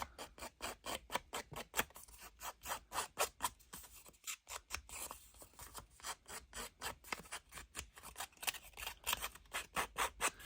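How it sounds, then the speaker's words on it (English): Small scissors snip through paper in a steady run of quick, crisp cuts, close and fairly quiet, with no talking. "Where's my little scissors? Little scissors."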